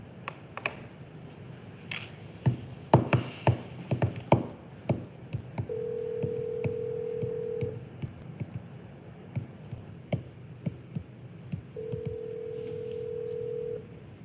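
A phone number is keyed in as a run of quick, separate dialing beeps, followed by two long, steady ringback tones with a pause between, all close and clear with no talk.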